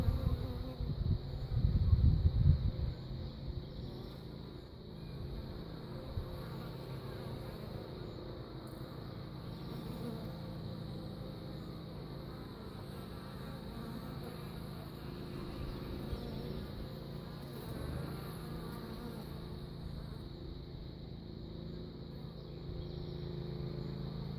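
A captured honey bee swarm buzzes steadily and densely, with a louder burst of close wing hum at the start, then a continuous mid-level drone of many bees, with no voices.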